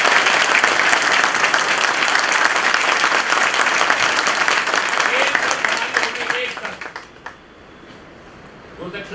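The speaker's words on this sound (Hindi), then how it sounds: "बजाओ अपने लिए ताली साहब" A large audience at an enrolment meeting claps loudly and continuously for several seconds before the applause thins out and fades, with some voices audible in the crowd.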